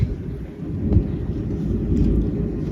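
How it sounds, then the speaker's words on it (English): Deep, continuous thunder rolls through a severe thunderstorm with very strong winds in New Jersey, a loud low rumble swelling slightly near the end with no voices over it. "wow, listen to that thunder though."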